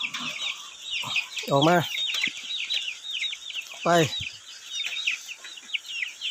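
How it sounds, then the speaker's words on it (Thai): Free-range village chickens forage outdoors, a fighting cock among them, giving steady close clucks with two louder drawn-out calls; a voice speaks briefly. "อันนี้ไก่ตีเนาะ"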